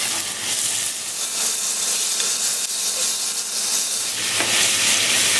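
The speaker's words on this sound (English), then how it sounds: "pancetta, fry it up, get a nice colour" Pork belly pancetta frying in a hot pan, a loud, steady close-up sizzle and hiss that holds throughout with no voices.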